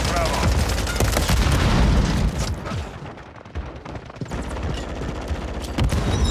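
Frag grenade blasts and gunfire in the Call of Duty 3 video game, a dense mix of rapid shots and deep booms that peaks early, dips briefly, then resumes as a steady battle din.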